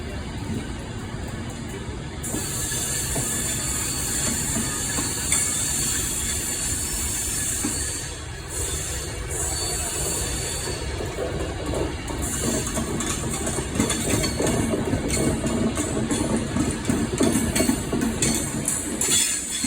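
A Northern passenger train departs Carlisle station, a steady loud rumble of engine and wheels that builds slightly with faint wheel squeal near the end.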